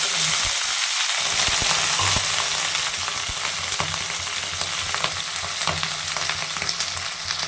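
Ginger, eggplant and green chili lightly frying in oil, a continuous close sizzle with occasional stirring scrapes and light taps throughout.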